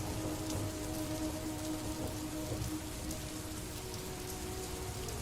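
Steady rain falls on a surface in a forest setting, a dense, even patter of droplets that holds at a constant moderate level throughout with no voices.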